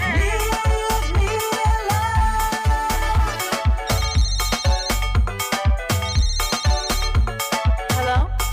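A phone ringtone plays as a loud, repeating electronic melody with a steady thumping beat, continuous and close throughout.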